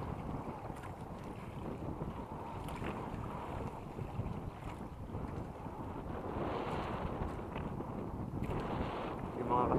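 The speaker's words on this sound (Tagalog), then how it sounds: "Kaya medyo malakas ang ating hangin." Strong wind at sea buffets a fishing boat off Quezon, a continuous rough rumbling rush of gusts and water that swells louder toward the end.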